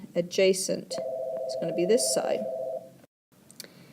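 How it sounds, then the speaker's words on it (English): A telephone rings under a voice, a steady electronic tone sustained for about two seconds while he keeps talking, then cuts off. "Sorry about that phone call that interrupted me."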